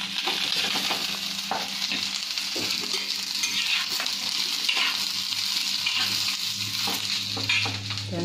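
Onion and green chilies fry in oil in a pan with a loud, constant close sizzle, stirred with frequent scraping clinks, and no voices over it.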